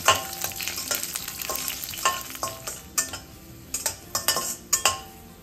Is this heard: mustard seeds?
yes